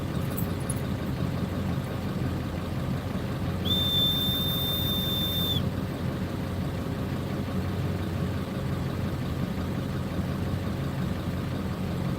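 A single steady, high-pitched dog whistle is blown for about two seconds beside a 1999 Ford F-350 7.3 diesel truck, standing out clearly over the constant low rumble of the idling engine.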